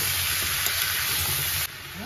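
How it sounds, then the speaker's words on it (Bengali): Turmeric, chopped green chilli and ginger sautéing in a hot pan with salt. A dense, even sizzle runs throughout and drops slightly in loudness near the end, with no voices. "হলুদ, কেটে রাখা কাঁচা লঙ্কা আর আদা, সব একসাথে ভালো করে কষিয়ে নেব"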